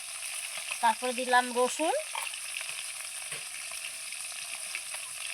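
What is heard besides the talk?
sole fish frying in a pan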